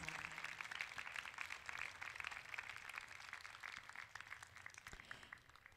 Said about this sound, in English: So if we can give them a very, very big round of applause.